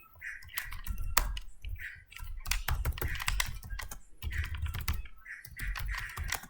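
Steady, close typing of code on a computer keyboard, quick clusters of key clicks in uneven bursts with short pauses, fairly quiet and with no voice over it.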